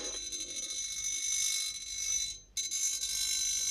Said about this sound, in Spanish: ahora con mi aparato de vibración voy a ver dónde está el campo magnético